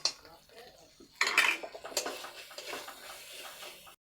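Stone-ground spice paste is stir-fried in a pan for a chana dal cooked with goat fat, with a metal utensil clattering and scraping against the pan in close, irregular knocks.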